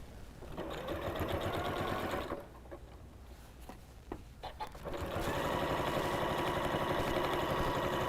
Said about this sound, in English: Bring my sewing machine in.